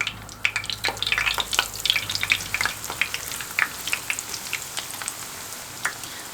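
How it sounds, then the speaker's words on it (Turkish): Breakfast foods sizzle and crackle in plenty of hot oil in a pan, a busy stream of spitting pops and hisses close by, steady throughout. "Kahvaltılığımı kızartmak için tavama bolca yağ aldım."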